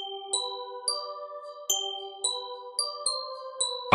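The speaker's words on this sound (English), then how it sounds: "bell sample in my folders." A church bell sample plays in a music production session, struck in a regular pattern of clear, sustained metallic tones with long decays, moderately loud and alone.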